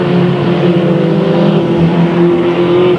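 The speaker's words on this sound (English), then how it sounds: "Joe Cambra tries to make that inside move and put a lap on Tab Butler" Stock cars race around the oval at Delta Speedway, a loud, continuous engine roar with steady droning tones holding through the whole stretch, close and unbroken, with no talk.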